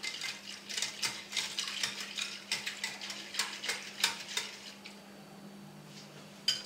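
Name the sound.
stirring gelatin cream mixture in a dish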